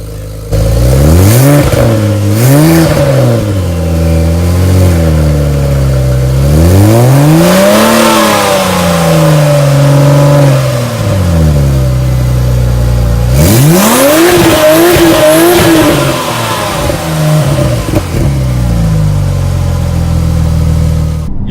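Porsche 911 Turbo with a Tubi Style exhaust and Cobb tune revving through the mid-range, loud and close, repeated rising and falling blips followed by longer pulls and a drop back to idle.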